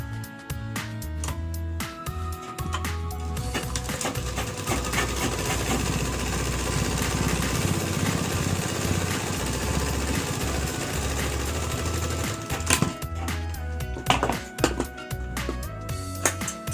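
A sewing machine double-stitches the outside seam of a pair of pants up to the knee, running in one steady, fairly loud whirring stretch for about twelve seconds before stopping, followed by a few light clicks.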